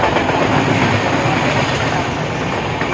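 A Dankuni–Burdwan local train at a station, loud and close, with a continuous heavy rumble and rhythmic wheel clatter on the rails throughout.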